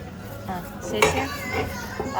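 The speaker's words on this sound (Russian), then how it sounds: "И вот так устроен китайский фудкорт в супермаркете." Chinese supermarket food court, with close clinks of dishes and cutlery under general chatter and children's voices, one sharp clatter standing out midway.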